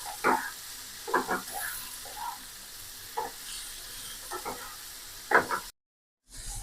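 Radish greens frying in a pan as a spatula stirs them, sending out scattered scraping strokes over a soft, steady sizzle, close but fairly quiet, with a short silent gap near the end.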